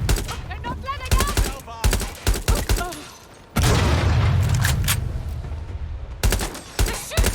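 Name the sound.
gunfire in Watch Dogs: Legion video game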